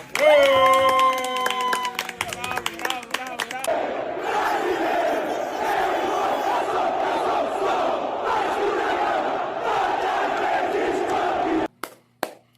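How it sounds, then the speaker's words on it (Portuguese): An audience first sings together for a few seconds, then breaks into sustained applause mixed with crowd noise, loud and steady before it cuts off abruptly. "Uma salva de palmas."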